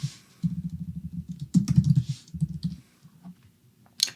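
Fast bursts of typing on a computer keyboard, with rapid clustered keystrokes in three runs and a few scattered single key clicks, close and clear with no talking.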